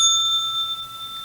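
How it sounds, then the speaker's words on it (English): A single bright bell strike on a trading broadcast rings out loud and close, then its clear metallic tone decays slowly with no talking. "well, that bell's for you."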